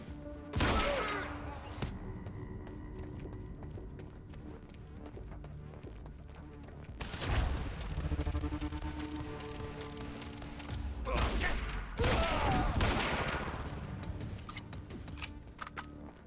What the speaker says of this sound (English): This assault rifle thing is just so nice.